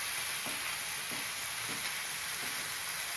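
Tomatoes sauté in a pan for capsicum masala, a soft, steady sizzle and hiss with faint periodic stirring strokes, fairly quiet and without talk.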